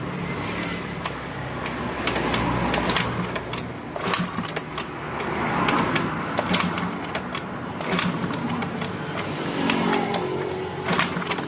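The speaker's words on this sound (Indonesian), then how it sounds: "Kita engkol." A carbureted Honda Beat motorcycle is kick-started and runs, its small engine puttering in a fast, rattly rhythm with clicking ticks and slight swells in revs, close by and steady throughout.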